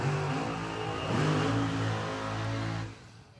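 Top Fuel dragster engines fire up and rev at a drag strip, giving a loud sustained roaring engine tone that swells and holds before cutting off near the end.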